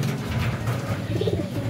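Breeding pigeons in a loft give low, soft coos under a steady wash of background noise, murmuring continuously with no clear voices.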